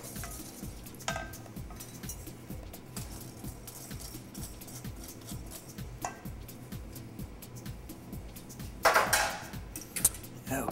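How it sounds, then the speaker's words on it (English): Melted chocolate being stirred in a pot off the stove makes quiet, rhythmic scraping strokes, with a few louder clinks of the utensil against the pot near the end. "I like to stir it for another minute to kind of cool it down a bit."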